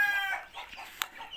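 A turkey gives a brief gobbling call, close and moderately quiet, with a short sharp click near the end.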